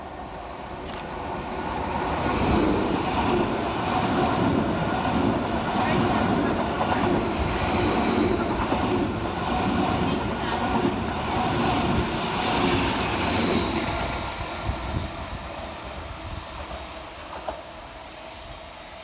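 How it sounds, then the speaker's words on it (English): Greater Anglia Class 745 electric multiple unit 745-006 passes through Rectory Road station on a diversion from London Liverpool Street to Stansted Airport, a loud, sustained rumble with rhythmic clatter of wheels over joints, fading toward the end. "Passing through the opposite direction is 745-006, working 1 Bravo 42 for Greater Anglia from London Liverpool Street through to Stansted Airport"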